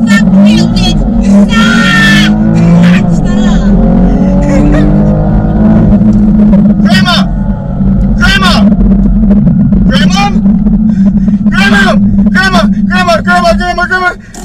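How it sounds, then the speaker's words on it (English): A BMW M4 launches hard from a standstill, its engine revving loud and rising in pitch. Screams and excited talk from people inside the car ride over the roar. "I'm about to give Grandmom a launch in my BMW M4"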